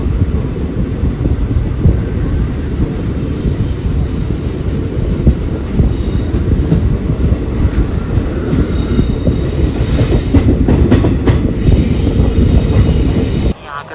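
The Nagercoil–Kollam passenger train runs on the rails of a Kerala line, heard from on board as a loud, continuous rumble with rattling carriages and rhythmic wheel clatter that goes on throughout, then cuts off at the very end.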